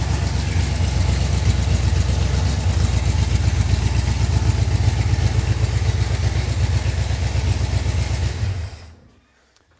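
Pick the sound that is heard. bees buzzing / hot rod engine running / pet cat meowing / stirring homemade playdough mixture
hot rod engine running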